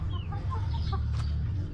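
Backyard chickens clucking close by, a quick series of short clucks and chirpy calls over a steady low background hum.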